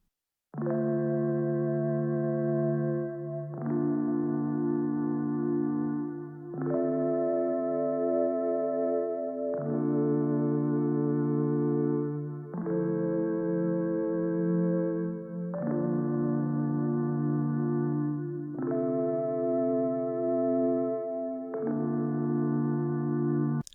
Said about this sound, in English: the sound we're using for this is the 57 bell organ preset from Prophet, from Analog, or from Arturia.